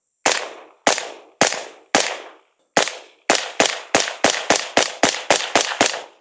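An 11.5-inch gas piston rifle with a KAK K-spec side-venting muzzle device fires from a 30-round magazine: four spaced shots, a pause, then a rapid string of about ten sharp, loud reports.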